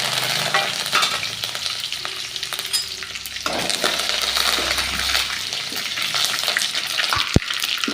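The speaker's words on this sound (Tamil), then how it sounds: "கடுகு பொரிஞ்சிச்சு, கருவேப்பிலையும் பொரிஞ்சிச்சு." Mustard seeds and curry leaves spluttering in hot oil: a dense, close crackling sizzle with scattered sharp pops and a stirring scrape, steady throughout with no talking.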